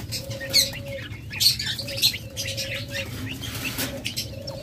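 Caged pet birds such as lovebirds, cockatiels, budgies and doves at a bird seller's chirp in repeated short bursts over a steady background hum, with a few louder calls standing out.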